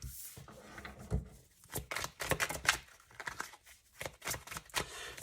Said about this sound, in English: I'm just going to keep shuffling until we get roughly 5 more cards